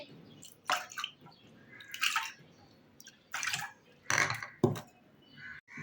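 Water is poured into washed toor dal in a pressure cooker, heard as several separate splashing pours and drips at close range with short pauses between them.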